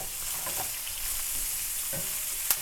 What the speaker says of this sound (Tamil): வெங்காயம், கருவேப்பிலை, பச்சை மிளகாய், கொடை மிளகாய் மூணையும் வதக்கணும்